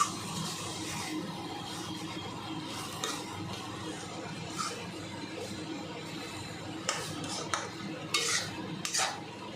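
Prawn pepper fry being stirred in a pan, with a spoon scraping and clinking against the metal in soft irregular strokes over a quiet background and a few louder knocks near the end.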